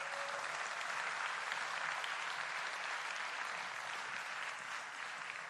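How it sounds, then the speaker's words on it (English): Applause for a speaker fills a large hall, a continuous, even wash of many hands clapping that holds steady without pause. "Again, let's give him a big round of applause."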